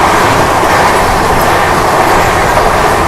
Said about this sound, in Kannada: ನಮ್ಮ ಪ್ಯಾಲೇಸ್ ಕ್ವೀನ್ ಹಮ್ಸಫರ್ ಸದ್ಯಕ್ಕೆ ರೀಚ್ ಆಗಿಬಿಟ್ಟಿದೆ ಸೂರತ್ ಸ್ಟೇಷನ್ಗೆ